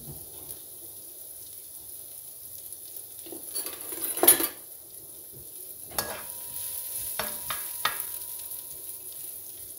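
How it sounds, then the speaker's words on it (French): Sliced leeks sauté in a small wok, a faint sizzle underlying sharp metallic scrapes and clinks of a utensil against the pan, coming in irregular bursts with quieter pauses between. "je vais faire revenir les poireaux dans mon petit wok"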